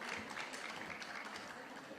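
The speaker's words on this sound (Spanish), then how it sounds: "Un aplauso, por favor." An audience applauds at a women-and-politics panel at a world women's summit in Guayaquil: dense, steady clapping from a hall crowd, moderately distant and even throughout.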